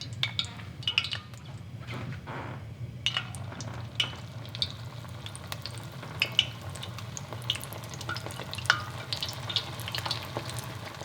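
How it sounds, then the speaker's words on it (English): Cauliflower pieces deep fry in oil heated to 350 degrees for General Tao's cauliflower, a steady bubbling sizzle under a low hum with scattered crackles and pops throughout. "And just to check before we deep fry the next batch, it hits 350 degrees. Let's toss in our next batch."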